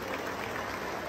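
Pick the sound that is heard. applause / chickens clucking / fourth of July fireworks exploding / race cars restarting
applause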